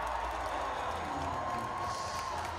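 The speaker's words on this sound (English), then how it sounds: "One last cheer here for the Gryphons" Hockey crowd at a Frosty Mug tournament game cheering and applauding for the Guelph Gryphons, a steady, fairly distant roar of cheers and claps with a few whoops rising near the end.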